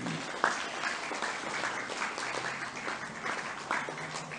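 Students at an Islamic boarding school clap for a preacher's lecture, a moderately distant, steady patter of many hands with a few sharper individual claps standing out.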